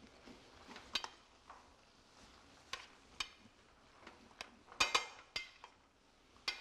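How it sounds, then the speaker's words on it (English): Pasta tossed with sausage sauce in a pan, giving quiet scraping and clinking of a utensil against the pan in scattered, irregular strokes, with soft sizzling underneath. "we can sort of all mix it together"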